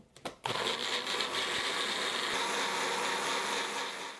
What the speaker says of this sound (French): Donc là, on va venir broyer tout ça pour avoir une texture homogène.